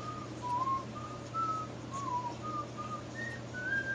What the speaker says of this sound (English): He's just whistling the theme.